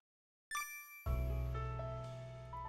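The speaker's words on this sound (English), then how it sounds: "Chimes jingled overhead as I passed through the door." Door chimes jingle at a bar entrance in a video game, a short bright tinkle followed by sustained ringing tones that layer and slowly fade, loud and alone without any talking.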